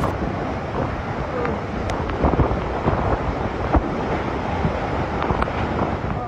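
Typhoon Opong's strong wind roars through Mansalay, Oriental Mindoro, a dense, loud, continuous rush buffeting the microphone, with gusts swelling and faint scattered cracks and rattles beneath.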